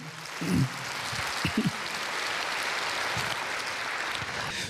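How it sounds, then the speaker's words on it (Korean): A church congregation claps during a Korean pastor's sermon, a fairly quiet, even patter of applause sustained throughout, with a few low vocal murmurs early on. "여러분 박수 한번 해주실까요?"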